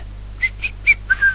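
A person whistles a short, bright phrase of four or five quick notes, close and clear against a low steady background hum.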